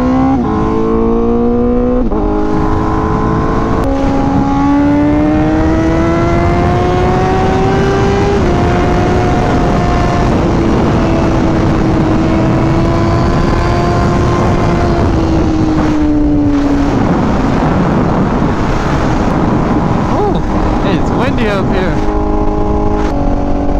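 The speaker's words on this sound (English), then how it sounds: "Tone on this bike is so nice." A Honda CBR1000RR-R Fireblade SP motorcycle engine revs loudly and close, its pitch climbing, holding and falling in long sweeps, then dropping and rising again near the end.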